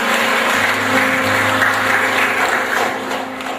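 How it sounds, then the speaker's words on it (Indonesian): A church congregation at an inaugural worship service in Depok applauds the preparation committee, giving steady, dense clapping throughout that fades slightly at the end. "Tepuk tangan buat panitia persiapan yang telah dilakukan."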